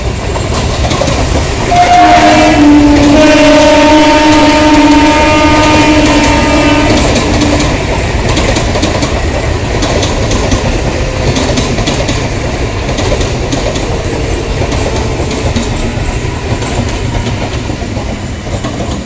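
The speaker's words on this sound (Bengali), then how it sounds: "Shantipur Sealdah local Shyamnagar railway station দুনগর প্ল্যাটফর্মে প্রবেশ করলো" A Shantipur–Sealdah local train of Indian Railways, Eastern Railway, arrives at Shyamnagar station, sounding a loud sustained horn over the close, heavy rumble and clatter of the rolling cars.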